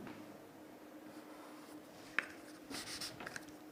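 Pen writing on paper while labelling a reinforced concrete section drawing, quiet scratchy strokes that grow into a short burst of scribbling near the end, close and soft with no talking.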